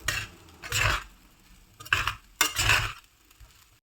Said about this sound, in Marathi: आणि आता हे सर्व मध्यम गॅसवरती छानपैकी परतून घ्यायचं.